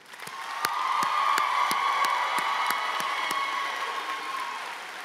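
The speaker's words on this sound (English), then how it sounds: "Please give your student a round of applause." Steady applause from a large crowd at a high school graduation ceremony, sustained clapping with some cheering mixed in, holding at an even level throughout.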